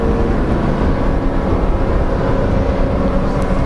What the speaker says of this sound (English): Listen to those engines. They'll hit the revs, dump the clutch, and get ready to go here for the Turo Tires Pro Lights.